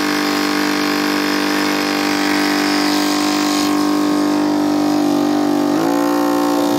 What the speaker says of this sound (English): But the motor does rev up quite a bit without any lights going.